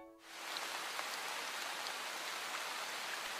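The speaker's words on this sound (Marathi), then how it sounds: "पाऊस तर पडतच राहील" Rain pours down in a dense, even hiss of drops that stays steady after a brief quiet start, soft in level and with no voices.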